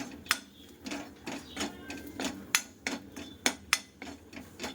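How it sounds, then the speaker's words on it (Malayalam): A spoon stirs gram flour with turmeric in a pan, giving irregular scraping clinks and soft taps at close range, with no talking. "ഇത് നന്നായിട്ട് പച്ചമണം മാറുന്നത് വരെ നമുക്കൊന്ന് ഇളക്കി കൊടുക്കാം"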